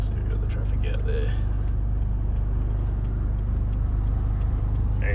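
A Toyota Hilux with a 1KD engine on +30 injectors pulls out into traffic on a test drive, its engine a steady low hum with light ticking and brief faint sounds over it.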